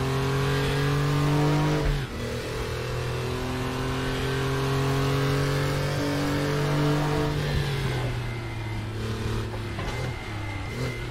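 A Porsche 911 (964) racing at Bilster Berg in an endurance sim race: a loud, steady engine drone with strong harmonic whine holds high revs, dips sharply for a gear change near two seconds, and surges again with another shift later.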